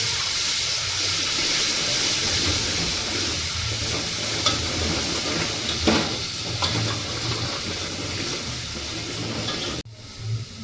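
Cumin seeds and green chillies crackle and sizzle in hot oil, a dense close frying hiss with occasional sharper pops and stirring scrapes, cutting off abruptly near the end.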